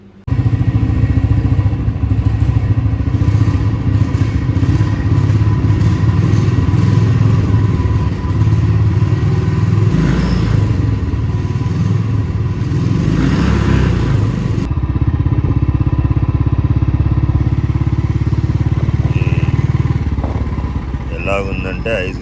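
A motorcycle ridden out on a cold morning gives a steady, close engine drone that runs unbroken for the whole stretch, with voices over it.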